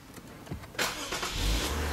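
A new car's engine is started with a push button: a brief whine and catch, then a steady idle that settles in close by, with no speech.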